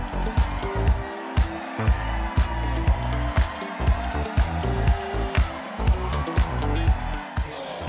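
Hot Wheels diecast toy cars, including a 280ZX and a Silver Bullet with Ultra Hots, race down a multi-lane track in rapid rhythmic clacks and rattles as wheels cross track joints, a continuous close rolling clatter throughout, with a voice talking over it.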